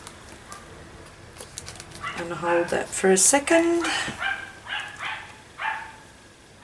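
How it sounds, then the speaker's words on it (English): A dog barks in short, repeated bursts in the background, clustered in the middle and later part, while someone talks nearby during a paper-craft session at home. "Now the dog's barking."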